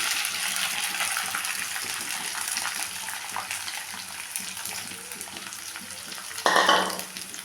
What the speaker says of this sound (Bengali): এখন আমি এটার মধ্যে রাইসটা দিয়ে দেবো বানিয়ে রাখা রাইসটা দিয়ে দিলাম